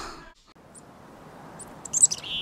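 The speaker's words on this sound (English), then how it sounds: "if you do hear this call, then you know you have yourself a female black-capped chickadee" A female black-capped chickadee gives its broken D call: faint high chirps early on, then a louder run of sharp notes near the end over a soft hiss.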